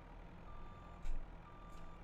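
A steady electronic reversing beep from a farm vehicle in Farming Simulator 22 repeats at a slow, even rhythm over a constant low engine drone, with no talk.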